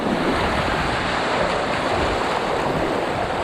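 Ophion Katana paddle stroking through open water, a steady broadband wash of splashing and surf with wind buffeting the microphone, continuous and close with no talking.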